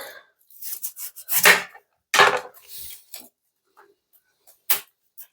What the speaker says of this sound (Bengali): চলো ফুলকপিটা ঝটপট করে কেটে নিই ছোট ছোট ফুলকপি পিস করব